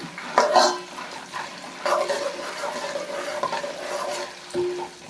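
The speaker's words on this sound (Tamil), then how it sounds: "கடலைப்பருப்பு, நிலக்கடலை பருப்பு, பச்சை பருப்பு இதை போட்டோம். அதோட நல்லா பொரியும்." Chana dal, peanuts and moong dal sizzle and crackle as they fry in a pan, with a spoon scraping and stirring through them in bursts and faint clinks of cookware.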